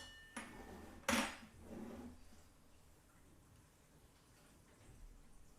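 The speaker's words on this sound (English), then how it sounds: "That is to cut ourselves a slice of the cake." Knife cutting a slice of strawberry cream cake, with a few sharp clinks and knocks of metal on a plate, one louder scrape, then quiet handling.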